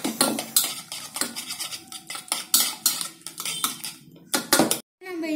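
Caramel cake batter with eggs and semolina is stirred in a bowl, with a spoon clinking and scraping rhythmically against the sides in quick, close strokes that stop just before the end.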